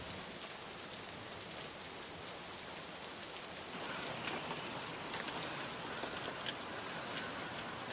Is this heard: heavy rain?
yes